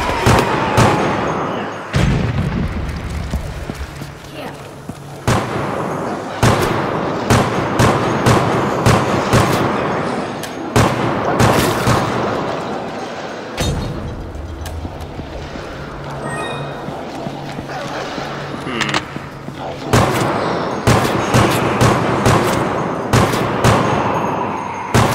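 Repeated pistol gunfire in the Resident Evil: Operation Raccoon City video game, sharp loud shots cracking in irregular bursts over a steady backdrop of game ambience, with a brief calmer stretch midway.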